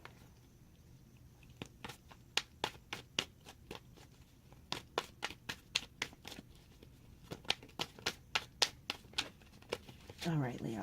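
Repeated crisp riffling bursts of tarot cards being shuffled, coming in quick clusters, close and fairly loud, with a faint background hum.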